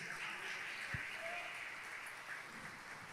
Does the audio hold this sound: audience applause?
yes